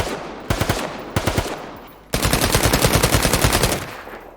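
M417 rifle fire in the video game World War 3: two short bursts of rapid, loud gunshots, then a longer sustained burst of fast, punchy automatic fire, heard alone without talk.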